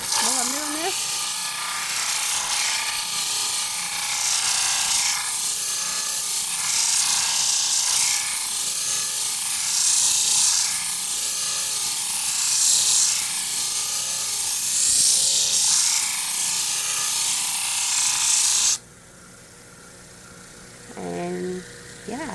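Flat lap grinding machine motor running steadily under heavy downward pressure, a loud continuous whirring grind with rubbing texture that cuts off abruptly near the end, followed by brief speech.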